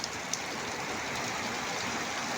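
Heavy rain falls in a dense, unbroken roar with strong wind, steady and loud throughout, lashing coconut and curry leaf trees in Kembhavi.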